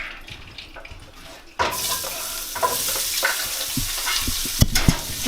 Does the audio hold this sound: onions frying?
yes